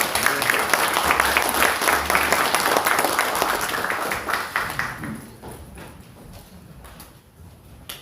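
Audience at a seminar clapping, a loud burst of applause that gradually thins and fades over several seconds into scattered claps and room quiet.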